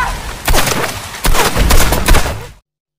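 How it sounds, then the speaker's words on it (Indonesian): Gunshots in a film scene, a few sharp loud blasts with echoing rumble over a busy action soundtrack, cutting off abruptly into silence. "tembakan Derek berhasil mengenai kakinya"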